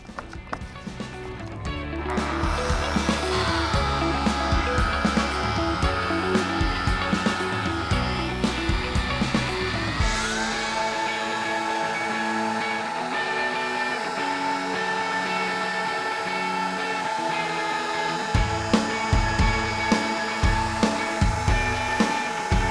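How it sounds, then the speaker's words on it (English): Rotary polishing machine running steadily on a car's clear coat during a final high-shine polish, a loud continuous motor whine with shifting pitch as pressure changes, ending in a few rhythmic bumps and knocks. "So what we're going to do now is go back to our polishing machine. We're going to use the rotary still"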